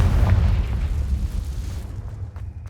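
A Confringo blasting spell detonates in the Hogwarts Legacy video game: a heavy, booming explosion with a rolling low rumble that thins out and fades over a couple of seconds.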